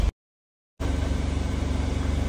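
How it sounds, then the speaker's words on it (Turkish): A Mercedes B180 W246 sits running after a remote start, a steady, fairly loud engine drone after a brief gap of silence near the start, with no voices. "Aracım şu anda çalışıyor ama kilitli konumda çalışıyor."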